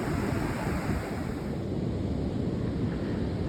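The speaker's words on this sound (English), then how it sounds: "Waves kissing the shore like rhythmic mantras." Surf washing steadily onto a Goa beach, a continuous broadband wash with wind noise, no distinct individual wave breaks, heard alone.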